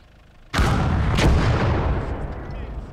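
A single loud artillery gun firing a shell in the Gates of Hell: Ostfront war game, with a sharp heavy blast, a second crack close behind, and a long rumbling decay.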